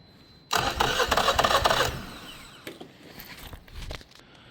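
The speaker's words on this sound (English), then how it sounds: "Now we're going to go crank the motor 7 times." A fuel-injected Yamaha outboard motor cranks over during a compression test, a loud, rapid churning for over a second, then a few quieter, uneven turns without starting.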